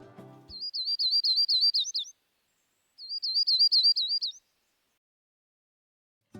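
A yellow-rumped warbler sings two high, rapid trilling phrases separated by a short silence, clear and close against a quiet background.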